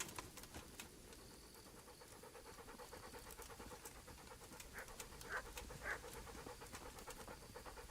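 A dog panting in the video game Kingdom Come: Deliverance, with quick steady breaths running throughout over faint ambient game sounds and a few brief chirps near the end.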